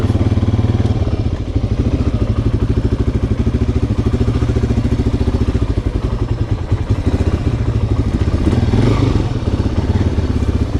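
A Yamaha XT350 motorcycle engine idles steadily after carburetor work, a loud close, even single-cylinder thumping that runs throughout with a slight rise in revs near the end.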